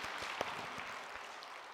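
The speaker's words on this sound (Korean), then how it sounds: "우리 하나님께 영광의 박수 올려드리겠습니다." A church congregation at a Sunday evening service claps in praise. The applause is faint and distant, a soft steady patter with a few sharper individual claps standing out.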